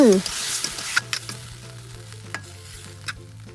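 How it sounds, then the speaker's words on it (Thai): Onions stir-fried with beef liver in a pan give off a loud close sizzle, with spatula knocks and scrapes against the pan at irregular intervals and a low steady hum underneath. "จากนั้นใส่หอมใหญ่ ผัดคลุกเคล้าให้เข้ากัน"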